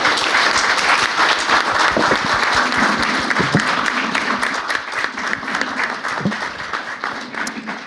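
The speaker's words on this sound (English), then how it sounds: "Can we give a round of applause for our panel?" Sustained, dense applause from a seated audience at a university Black History Month panel, loud and steady for the whole stretch and gradually easing toward the end, with no talk over it.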